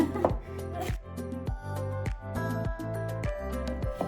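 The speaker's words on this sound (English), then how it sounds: "Chopping parsley, I'm doing just the tip of the parsley" A knife chops the leafy tips of fresh parsley on a cutting board in quick, regular close knocks, with tonal kitchen sound sustained underneath.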